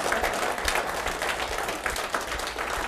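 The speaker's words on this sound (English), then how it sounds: "Keep on clapping them." An audience claps fast and continuously at a business sales talk, a dense, even patter of many hands with no voices over it.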